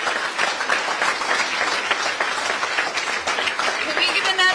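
A crowd at a political rally for California Prop 50 applauds and cheers in a dense, steady wash of clapping, with voices mixed in throughout.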